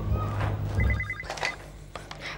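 A telephone rings in a Hindi TV drama scene, a short burst of electronic ring pulses heard close by under soft room sound, with a voice speaking just after.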